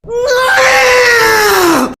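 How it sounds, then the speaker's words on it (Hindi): A man in an audio drama lets out one long, loud anguished scream that holds steady and then sinks in pitch before breaking off, with no other voices around it. "वहां का दृश्य देख वो पागलों की तरह चीख पड़ा"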